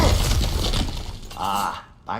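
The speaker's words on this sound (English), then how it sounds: "back to smashing through things for fun and profit" Smashing through an obstacle in the God of War Ragnarok video game, a loud crunching, shattering burst of breaking debris with rattling mechanical clatter, followed by a shorter clang.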